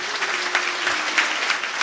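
A worshipping congregation claps together during prayer, a dense steady wash of many hands with a faint sustained tone running underneath.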